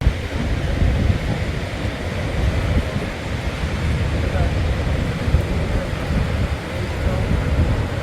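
Surf rolling onto the basalt shore at Giant's Causeway, a steady, loud wash of breaking waves with wind buffeting the microphone throughout, no distinct pauses between swells.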